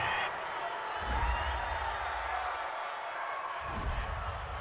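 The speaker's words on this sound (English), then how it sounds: "This home crowd, they're happy with that call." A home crowd at an NFL game between the New York Giants and Detroit Lions roars in approval of a penalty call, a broad distant cheer swelling in two waves beneath steady stadium noise.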